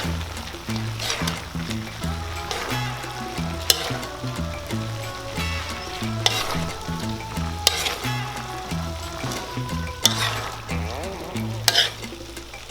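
Bamboo shoots (labong) being stirred in a pan make lively frying sizzle broken by repeated scraping strokes and sharp clicks of a utensil against the pan, close and fairly loud.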